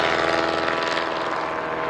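Propeller aircraft of 1910 vintage design, a box-type aeroplane, flying at an evening air display at Shuttleworth, giving a steady, continuous engine and airscrew drone at moderate distance with no talk.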